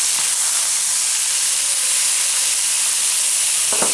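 Steaks for Steak Diane sizzle and hiss steadily in a hot pan just after being turned, a continuous loud broadband sizzle with a faint clink near the end.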